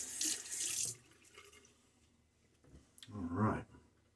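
Tap water running briefly into a sink during a wet shave, a close splashing rush that stops after about a second, then a quieter second burst of water near the end.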